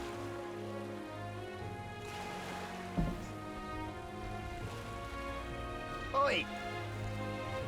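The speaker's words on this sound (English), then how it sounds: "This bloody rain soaked me" Steady rain falls in the video game Metaphor: ReFantazio, a soft continuous wash beneath a sustained musical drone, with a character's brief shouts breaking in twice.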